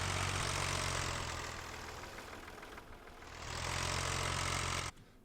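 A loud tractor engine with a 3000 engine idles steadily in Farming Simulator 15, a constant mechanical drone that dips briefly in the middle, swells back, then cuts off abruptly near the end.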